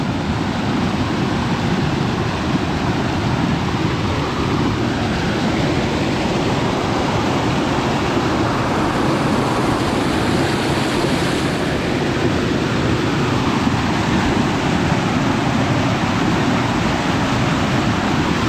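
Heavy flood water rushing steadily past a bridge railing, a loud, continuous broadband roar with no pauses and no voices.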